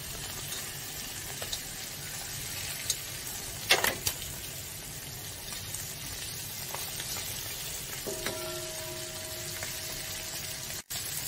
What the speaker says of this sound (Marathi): दोन्ही बाजूने व्यवस्थित भाजले पाहिजे.